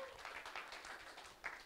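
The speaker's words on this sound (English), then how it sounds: "Could you give them an applause as well?" Faint applause from a live-stream audience at a crypto event, thanking the hosts; a soft, steady patter of clapping heard from a distance, low in level throughout.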